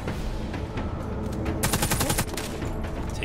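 An AK rifle fires in a video game. A burst of rapid automatic shots stands out in the middle, over a dense, loud backdrop of game noise.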